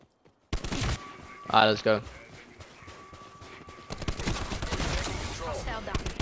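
Gunfire in Black Ops 4 multiplayer, with rapid bursts of scoped-rifle shots and sharp cracks mixed with game sound effects, loud and close, while a player talks over it.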